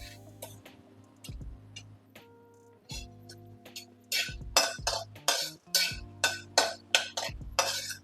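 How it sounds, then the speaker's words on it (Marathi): Peanuts are stirred while roasting in a little oil in a pan, making a series of dry rattling scrapes and clinks, sparse at first and then a quicker run of distinct strokes, close and without talk. "शेंगदाणे आपण परततोय थोड्याशा तेलामध्ये"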